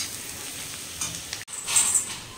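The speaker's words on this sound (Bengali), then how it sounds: "এই দেখো এখানে সবজিগুলো ভাজছি চাউমিনের" Vegetables sizzle in a hot pan for chow mein, a close, steady hiss that briefly cuts out and then swells again when stirred.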